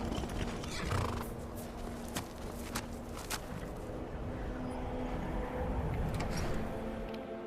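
A horse in the Skyrim video game whinnies loudly while its hooves clip-clop in a steady walking rhythm, close and clear, with a few sharp clicks over a low game ambience.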